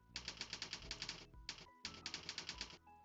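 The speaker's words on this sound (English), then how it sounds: "I'm just doing some typing exercises at the moment" Rapid, steady keystrokes from typing practice at a computer keyboard, close and clear in a quiet room, coming in two bursts separated by a brief pause.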